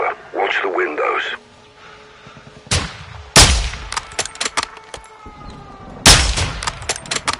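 Gunfire crackles in the Modern Warfare 2 campaign: heavy bursts of rifle and machine-gun shots, loud and close, break out after a stretch of radio-style talk, with more speech amid the firing.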